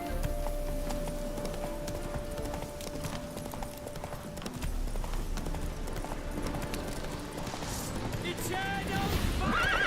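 Geralt's horse Roach in The Witcher 3 game, hooves clip-clopping steadily with a whinny, set under ongoing game noise and talk.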